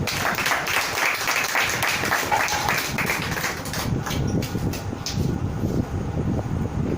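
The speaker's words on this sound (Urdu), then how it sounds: "میں چاہتا ہوں اس بیٹی کے لیے زوردار تالیاں۔" A church congregation breaks into loud, sustained applause for a woman after her testimony, a thick, continuous wash of clapping that stays strong throughout.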